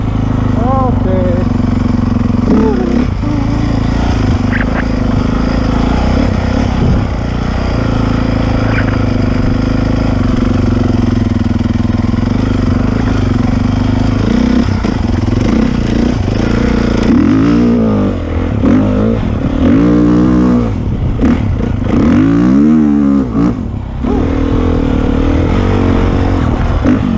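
A Honda CRF450R dirt bike ridden on a trail, its loud engine droning close throughout, with rising and falling revs and throttle bursts; a rider talks over it in places.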